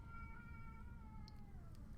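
A cat howls in a long, drawn-out, wavering yowl that slowly falls in pitch, sounding faint and somewhat distant over a steady low rumble of background noise.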